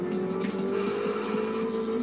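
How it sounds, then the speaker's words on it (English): Damaged car in Forza Motorsport 3 with its gearbox grinding, a steady loud mechanical drone with a harsh tonal whine holding throughout, engine noise continuous and close. "Oh, big gearbox is grinding."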